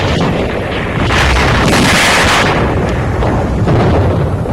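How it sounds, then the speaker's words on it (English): Loud, rolling boom of TNT charges blasting the underground tunnels of a wall in wartime Manila, a sustained roar of explosion and rumble with no voices. "TNT charges for blowing up and sealing the wall's underground tunnel system."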